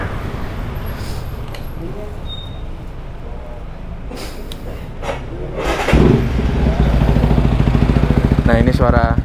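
A Yamaha WR155R motorcycle fitted with a Norifumi aftermarket exhaust runs close by, with a low, steady engine rumble that grows noticeably louder and fuller in the last few seconds.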